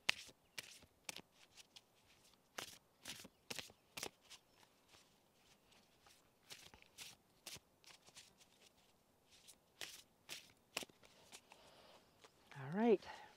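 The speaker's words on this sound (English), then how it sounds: "let me mix these up a little bit and pull a card" A deck of cards is mixed by hand in quick, soft riffles and slaps at irregular intervals, faint and close, with brief voice sounds near the end.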